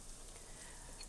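Daylily flowers frying in a small pan give a faint, steady sizzle, quiet and continuous with no voices.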